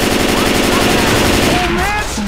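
Rapid machine-gun fire in the zombie shooter Left 4 Dead, loud and close, a continuous rattling burst with voices shouting over it toward the end.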